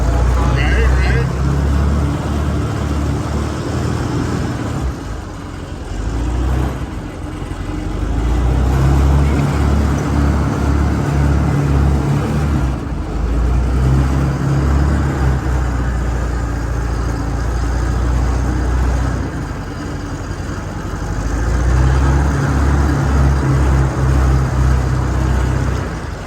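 A Volkswagen Schwimmwagen, the World War II amphibious car, drones steadily during a ride with a low engine hum that swells and eases, and people talk over it.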